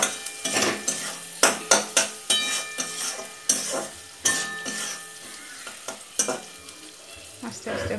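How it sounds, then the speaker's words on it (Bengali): Dried fish seasoned with turmeric and salt sizzles in a pan, while a spatula stirs it with repeated sharp scrapes and knocks against the metal that come in an uneven rhythm. The sound is close and no one talks. "ভালো করে নেড়ে নেব।"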